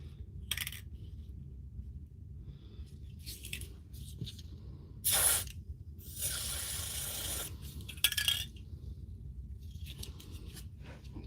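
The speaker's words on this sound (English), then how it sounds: "A bit of oil in the bearing." A short hiss of spray lubricant goes into the bearing of a Hilti or DeWalt power tool on a workshop bench, several brief bursts with metallic clinks between them, close by and fairly loud.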